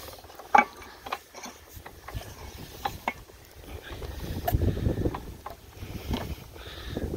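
An old 3 hp Lister CS diesel engine is turned over by hand. Faint, irregular mechanical clanks and ratchety knocks come at close range, with a low rumbling swell partway through.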